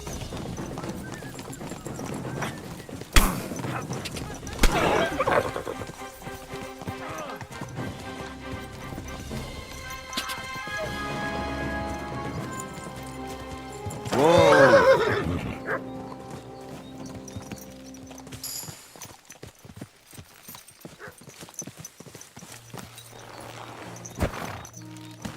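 A horse gallops and neighs in the video game Kingdom Come: Deliverance 2, steady clip-clop hoofbeats with a loud whinny midway, amid clashes and game ambience.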